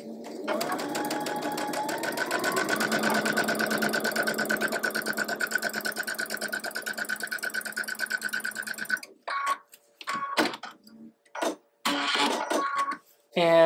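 A sewing machine runs a quarter-inch seam in one long steady burst of fast mechanical whirring, then stops, and a person starts talking over a few short sounds near the end.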